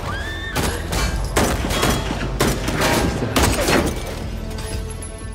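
Loud gunfire rings out in an action film shootout between Italian mafia members and their target, with repeated overlapping shots and bursts in a dense, continuous exchange.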